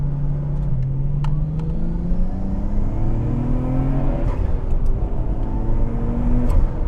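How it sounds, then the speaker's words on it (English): A turbocharged Nissan R34 GT-R engine pulls steadily, its pitch climbing gradually under acceleration with a constant rumble, intake and turbo noise low and cam sound higher, heard from inside the moving car in canyons. "Bottom is just all intake and turbo, but then when you get to the top, then you hear the cams"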